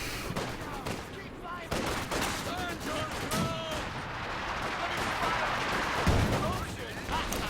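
Vickers machine guns in Company of Heroes 2 fire in a dense, continuous battle with rapid bursts and scattered distant blasts, and a voice talks over the fighting.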